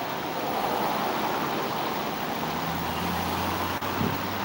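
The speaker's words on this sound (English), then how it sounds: "This here is the water they use that goes down to the power plant." Water rushing steadily down toward a power plant, a dense broadband roar of flowing water heard up close, continuous and loud for the whole stretch with no talk over it.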